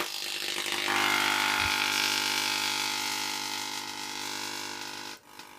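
Solid state Tesla coils with toploads switched on, giving a steady loud electrical buzz with tonal harmonics for several seconds before cutting off near the end.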